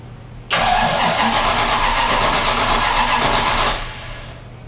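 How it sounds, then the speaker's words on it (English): A 1993 Ford Mustang engine cranks and catches, settling into a loud, even running sound for a few seconds before dropping back toward a quieter idle. "Well, it cranks."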